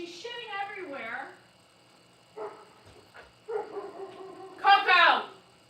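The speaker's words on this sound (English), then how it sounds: "He's barking at them." A pet dog barks at neighbors arriving home, giving a few yelping, whimpering barks in bursts, loudest near the end, with quiet gaps between.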